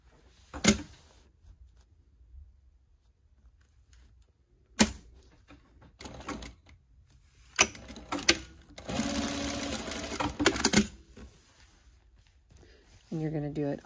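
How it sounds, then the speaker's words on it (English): Sewing machine stitching along the edge of fabric: short sharp bursts of needle clatter separated by quiet pauses, then a longer steady run of rapid stitching, close and clear. "you're gonna sew right along the edge of the continuous lap"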